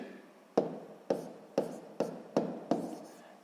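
Pen or pencil strokes on paper while a maths exercise is worked, six short scratchy bursts at a steady rhythm, each starting sharply and trailing off, close and quiet with no talk.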